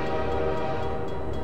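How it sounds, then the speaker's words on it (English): Train in the video game Half-Life 2, a steady low rumble with a faint sustained tonal hum, continuous and moderately loud, no voices. "There's our train."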